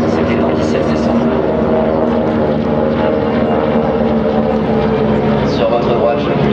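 Douglas DC-3 and Beechcraft 18 radial piston engines roar past in a classic formation flying display at Villaroche airfield, a steady, loud, dense drone of many cylinders without letup.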